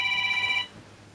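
A phone alarm rings in a steady electronic tone for about half a second, then cuts off, loud and close against faint room noise.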